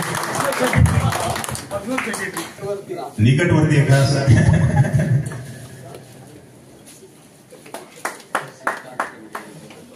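Clapping breaks out from an audience at an electrical contractors' association anniversary ceremony, a loud burst of applause following an announcement on a public-address system, fading into scattered claps as speech resumes.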